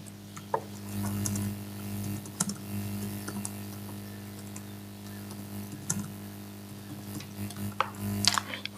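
Someone types on a computer keyboard while writing code, producing soft irregular clicks and keystrokes at close range over a low steady hum.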